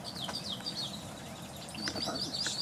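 Birds chirp and call near a creek along a beach-side bird trail, with several short, fairly faint tweets scattered across the clip over steady outdoor background noise.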